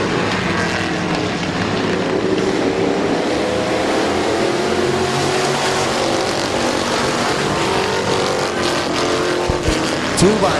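Race cars lapping a speedway oval, a loud continuous engine roar from a pack of cars running close together, sustained and near for the whole stretch.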